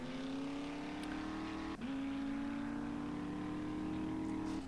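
A vehicle driving in 7 Days to Die (Alpha 19), a steady droning engine hum held at constant pitch with a brief dip midway, close and continuous with no talk.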